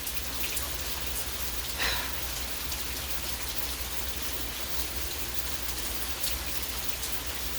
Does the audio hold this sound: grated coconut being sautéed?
no